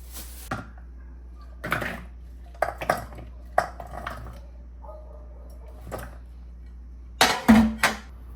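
Dishes, pots and pans are washed in a home kitchen, with scattered clinks and knocks of crockery and metal coming a few seconds apart, then a quick cluster of clatters near the end, against a quiet background.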